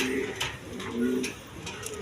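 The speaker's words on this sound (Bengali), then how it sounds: "দেখেন এইখানে এক পেয়ার কবুতর আছে, আপনার কোয়ালিটিফুল কবুতর, সিরাজি কবুতর, লাহোরি গেটআপের।" A pair of big Sirazi pigeons of the Lahori type, one female and one male, coo at a pigeon farm with low, rolling calls that repeat steadily over a steady background hum.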